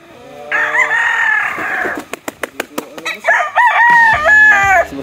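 A gamefowl stag rooster crows in a drawn-out call, then a run of sharp wing flaps and clucking follows, with a second crow near the end, all close and loud.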